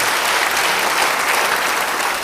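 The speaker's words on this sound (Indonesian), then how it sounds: "Beri tepuk tangan bagi dia." A church congregation applauds steadily, a dense, even wash of many hands clapping that fills the whole moment without breaks.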